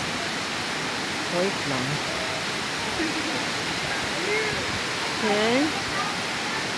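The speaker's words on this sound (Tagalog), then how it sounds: "Ito ang sa Batlag Waterfalls." Steady rushing roar of Batlag Waterfalls in Tanay, Rizal, a tall, long cascade, filling the whole clip as constant broadband noise, with a person speaking briefly over it.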